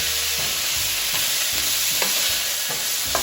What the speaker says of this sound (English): And just chop this meat up a little bit.